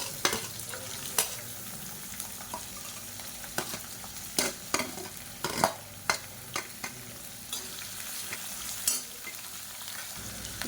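Continuous crackling sizzle of sliced onion frying in hot oil, punctuated by regular scraping and stirring clicks from a utensil against the pan.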